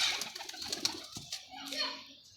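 A pigeon coos in a few low, soft, rolling calls among light handling noises, with a voice briefly nearby.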